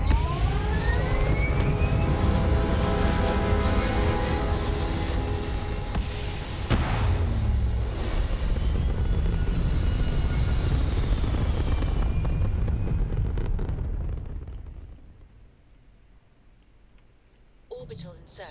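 A spaceship lifting off in the game Starfield, a loud, sustained roaring rumble with whining engine tones that holds steady, then fades away toward the end, overlaid by a voice speaking.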